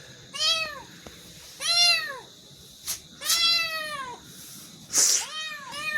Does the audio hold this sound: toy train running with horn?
no